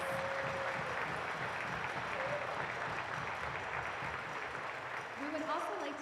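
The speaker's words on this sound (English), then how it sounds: "Please give a round of applause for our many sponsors." A crowd at a closing ceremony applauds steadily, a continuous mid-level wash of clapping with faint tones and a voice emerging near the end.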